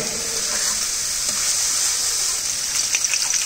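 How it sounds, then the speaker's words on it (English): Rice tossed and fried in a hot pan during a cooking practical, giving a steady, loud sizzle that runs unbroken with faint stirring scrapes near the end. "And lightly toss without breaking the rice grain."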